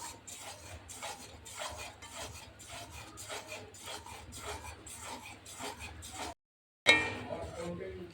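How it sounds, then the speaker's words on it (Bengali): Steady rasping scrape of a spoon stirring finely chopped fruit with lemon juice in a bowl, continuous and close for several seconds before a brief cutoff. "এবার লেবুর রসটা দিয়ে দিচ্ছি দিয়ে নাড়তে থাকবো"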